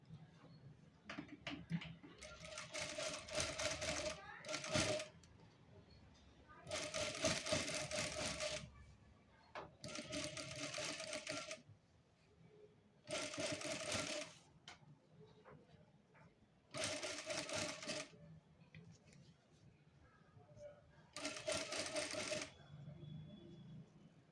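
A sewing machine stitches a round neckline in six loud bursts of rapid, even clatter, each a few seconds long, separated by quieter pauses with faint handling sounds.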